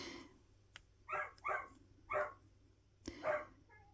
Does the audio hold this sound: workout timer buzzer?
no